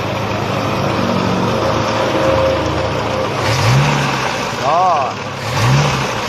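A car engine in low-power condition cranks and catches on the first turn of the key, then runs and revs briefly in the foreground while someone speaks over it.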